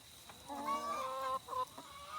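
Hens from a flock of about 300 cluck and murmur softly in a few short, drawn-out calls against a quiet background hum, fairly close but low in volume.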